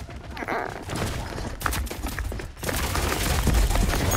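Rapid gunfire from the online shooter game Rogue Company rattles in dense bursts, loud and close, with a brief lull before a heavier sustained volley and a few low thuds.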